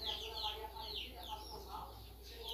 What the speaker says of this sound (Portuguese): Tá cheio de pintinho aqui, que todo dia eles vêm tomar café mais eu